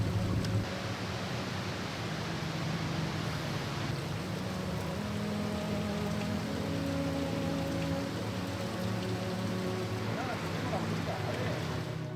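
Heavy rushing water pours down in a dense, constant roar, close and loud throughout without letup, with low rumbling underneath and no voices standing out.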